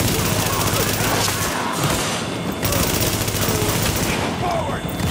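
Constant gunfire in Tom Clancy's The Division during a fight at the Russian Consulate: dense, rapid automatic bursts fill the whole clip, loud and continuous, with chaotic battle noise and occasional voices underneath.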